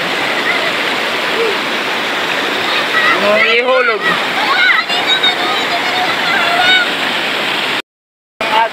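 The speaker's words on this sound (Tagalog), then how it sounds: "Agos dito. Ayan guys, yung tubig dito. Grabe lakas." Strong current of the Majayjay river in Laguna rushing loud and close in a constant roar, with people talking and calling out over the water and a brief dropout near the end.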